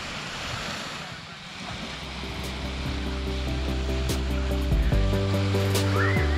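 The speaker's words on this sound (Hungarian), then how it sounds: "A tenger." Sea surf rolls onto the beach at Sarti, Greece, a steady broadband wash of waves buffeted by wind noise on the microphone, with a low droning hum that rises partway through.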